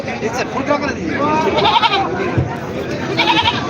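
Goats bleat several times amid the steady hubbub of a busy livestock market at Khandoba in Parbhani, with people talking nearby throughout.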